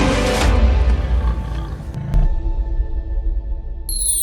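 Lions roaring in the Okavango delta, a deep, loud, rumbling roar with grunting texture that swells early and then tails off, heard without speech.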